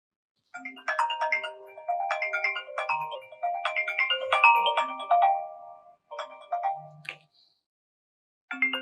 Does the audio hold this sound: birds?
no